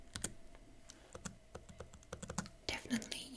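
Typing on the keyboard of a Huawei MateBook X Pro laptop: a steady run of soft, close key clicks at an uneven rhythm, with a faint whispering voice and brief handling noise near the end.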